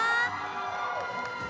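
Esports fans in a KPL Dream Team crowd cheer and shout at the Esports World Cup arena, a brief burst of high-pitched screams and whoops with a strong tonal ring from the venue sound system.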